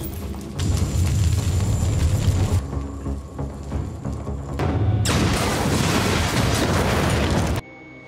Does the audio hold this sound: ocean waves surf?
no